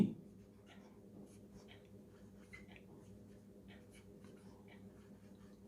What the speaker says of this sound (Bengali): আমি শব্দটি আবার লিখছি